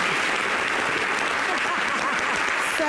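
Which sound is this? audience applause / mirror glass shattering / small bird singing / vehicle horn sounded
audience applause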